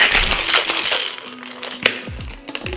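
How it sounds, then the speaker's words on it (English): Ice cubes rattle hard inside a cocktail shaker while an amaretto sour is mixed, a dense, loud shaking followed by a few sharper clinks as the motion slows. "now I'm gonna add ice to the shaker and shake for about 10 to 15 seconds."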